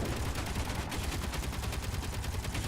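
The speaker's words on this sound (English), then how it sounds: "That would have been what shot me." An interior turret in a video game fires a rapid, steady stream of automatic gunshots, loud and continuous throughout with no talking.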